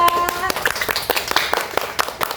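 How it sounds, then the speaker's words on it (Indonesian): Classroom applause for a student group after a presentation: a short burst of clapping from a room of pupils, with a few voices talking over it. "Oke, tepuk tangan untuk kelompok 2."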